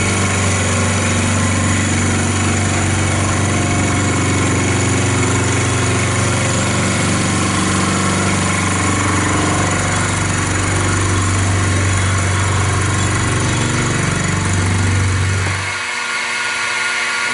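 Steady, loud cutting drone of a milling machine taking a test cut with a Chinese 16mm (5/8") two-flute indexable end mill, a low tonal hum with machining noise running continuously, then the pitch drops and the spindle winds down near the end.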